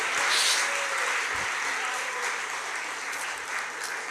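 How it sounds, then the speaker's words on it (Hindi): An audience claps at a Jain religious sermon. Dense, steady applause fills the whole stretch, loud at first and easing slightly, with no voices over it. "और ताली बजा दी"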